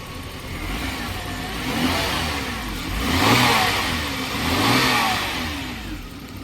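A 1994 Jaguar XJ40 3.2 Sport engine runs close by, rising and falling in a few slow revs over a steady mechanical drone, with no talking.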